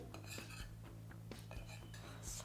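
A spoon clinks and scrapes steadily against a small dish while mixing honey into oil, a rapid run of light metallic ticks over a low background hum.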